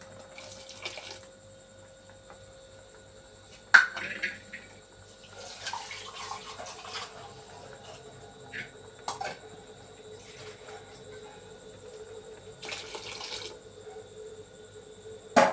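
Water is poured while washing, coming in a few short, quiet splashing bursts separated by near silence over a faint steady hum.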